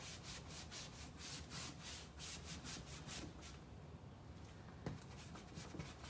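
A brush swirls and pushes dark wax into the carved detail of a wooden piece, making quiet, rhythmic scrubbing strokes that come in quick repeated bursts and then slow into softer rubbing.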